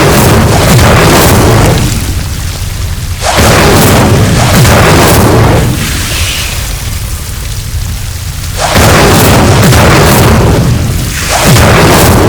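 Incendio fire spell cast repeatedly in Hogwarts Legacy, loud whooshing bursts of flame that swell and fade in several waves, with booming crackle filling the clip.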